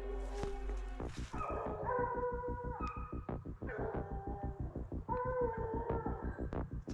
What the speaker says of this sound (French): Les chiens sont sur quête.